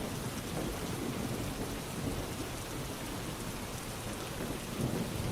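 Steady rain pouring on surfaces with low rumbling thunder beneath, a dense, even wash of sound that runs unbroken and fairly soft throughout, with no voices.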